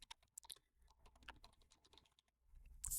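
Quick, irregular clatter of keys on a computer keyboard as a search is typed, close and fairly quiet, with no talking.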